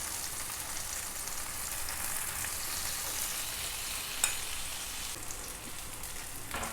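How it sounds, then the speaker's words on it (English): Steady, close sizzling and crackling of boiled, cubed potatoes stir frying in a hot pan, with a brief scrape of stirring now and then. "I will be stir frying my potatoes, boiled and peeled cubed potatoes."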